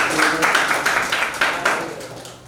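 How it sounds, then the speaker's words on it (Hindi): Students in a class on sales accounting entries clap together in a short, fairly loud round of rhythmic claps lasting a couple of seconds. "ताली बजाएं आप लोग"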